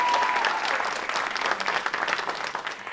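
An audience applauds at a high school academic quiz championship, a broad wash of many hands clapping at once, strong at the start and tapering slightly as it continues.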